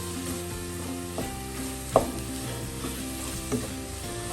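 Masala with tomato and turmeric frying for a chicken curry, an even close sizzle with a spoon stirring and a couple of sharp scrapes or taps against the pan.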